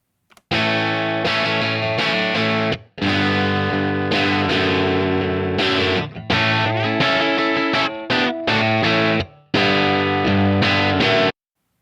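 Distorted electric guitar recorded with a Royer ribbon mic blended in, playing loud sustained chords and riffs in several phrases broken by short pauses, rich and full with heavy drive.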